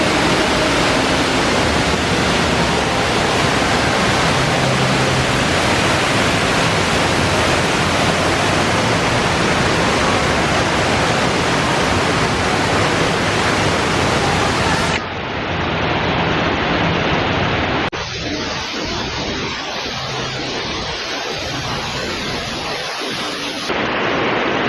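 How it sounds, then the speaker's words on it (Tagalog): A waterfall at a hotel resort pours down as a dense, steady rush of water up close, with the tone shifting abruptly twice as the listener moves behind the falling water. "Let's go behind the waterfalls."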